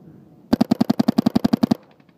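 A Planet Eclipse LV1 paintball marker fires a rapid string of about fourteen sharp, evenly spaced shots close by, a loud burst lasting just over a second before falling quiet.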